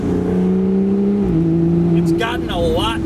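An Aston Martin with an automatic gearbox accelerates, its loud engine drone climbing, then dipping as a gear shift lands before pulling on; someone talks over the engine near the end.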